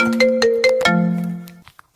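A synthesized phone ringtone plays a short bright melodic jingle of a few tones, loud and alone, ending after about one and a half seconds.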